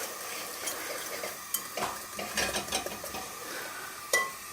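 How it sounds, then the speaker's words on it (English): Sugar melting into hokey pokey caramel is whisked and stirred in a pot, giving soft scraping swirls with a few light metallic clinks and taps, fairly quiet and close, with no voices. "I'm just going to whisk that around a bit."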